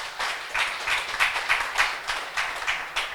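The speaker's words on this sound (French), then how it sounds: "Veuillez applaudir pour Sabine." A small group at an organization's general assembly claps in scattered, uneven bursts, moderately close, fading and resuming over a few seconds.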